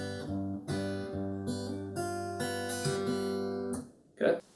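An acoustic guitar fingerpicks one bar of the Sweet Melody pattern, plucked notes ringing clearly over a bass line, then a brief voice speaks as it fades.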